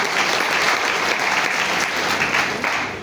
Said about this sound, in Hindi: एक व्यक्ति के लिए तालियां होनी चाहिए